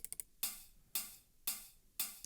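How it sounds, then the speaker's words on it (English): Looped electronic hi-hat warped by a frequency shifter, four bright metallic hits at a steady pulse of about two per second, each with a short swelling tail, plus a few quick ticks at the start, alone and fairly quiet. "We got this hat. And I've looped that and put a frequency shifter on it to make it sound like this."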